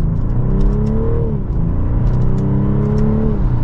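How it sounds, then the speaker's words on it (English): A 2024 BMW 540i xDrive sedan accelerates hard, its loud, steady engine note climbing in pitch, dipping briefly at a gear change, then rising again without a break. "And with one last acceleration, here we go."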